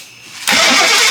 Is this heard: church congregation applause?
no